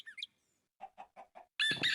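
A chicken in Minecraft clucks four short times in an even rhythm, followed by a sudden loud burst of game sound effects. A brief chirp comes at the start.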